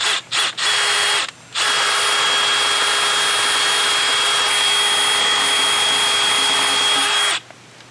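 An electric drill polishes an aluminum wheel rim, starting with a few short bursts, then running as a loud, steady whine for about six seconds before cutting off.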